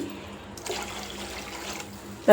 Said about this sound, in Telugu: ఇప్పుడు ఈ గ్లాసుతో నేను రెండు గ్లాసుల నీళ్ళు పోస్తాను